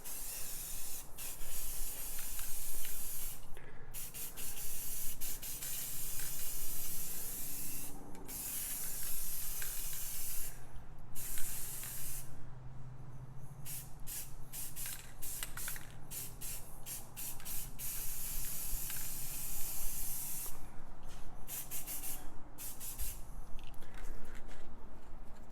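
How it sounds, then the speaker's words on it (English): Aerosol spray paint can hissing onto an art canvas, a steady broadband spray that runs in long bursts with brief pauses between them, fairly close and with no voices. "I'm gonna spray off to the side, get the big globs off"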